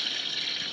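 Water from a toilet flush rushes and hisses steadily. The sound is moderately faint and unbroken through the short moment, with no voices.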